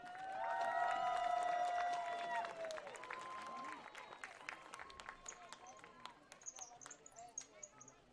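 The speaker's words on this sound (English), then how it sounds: "Let's have one more round of applause for the sound of Central." Stadium crowd at a college football game applauding, with scattered cheers and clapping. A horn-like tone swells early and then fades, leaving a crowd murmur with sharp claps and thumps. A voice speaks over the crowd.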